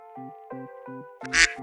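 A duck quacks indoors, preceded by a soft, evenly spaced series of low toots over a steady tone, then one loud, harsh burst at the end.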